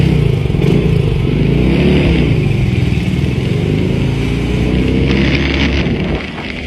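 Honda Grom motorcycle engine revving inside a parking garage, a loud, close, echoing drone that rises and falls in pitch, then drops off sharply near the end.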